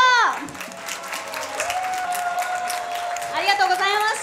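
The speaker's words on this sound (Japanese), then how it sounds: "ご参加いただいた格闘家の皆様に今一度大きな拍手を" A wedding arm-wrestling contest with pro fighters ends in a burst of audience applause, clapping rising under a host's voice that speaks at the start and again near the end.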